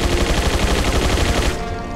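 Rapid machine gun fire in the video game Resident Evil 4 Separate Ways, a dense loud burst of rattling shots for about one and a half seconds before cutting off into ringing.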